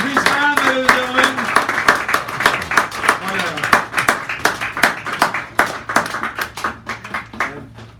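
Audience clapping at a poetry hour in a San Francisco cafe, a steady patter of hands alongside talking voices, with sharper individual claps standing out near the front and the applause continuing across the whole stretch.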